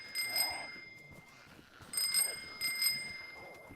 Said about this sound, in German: Schießen und klingeln, aber er zieht's weg von der Horde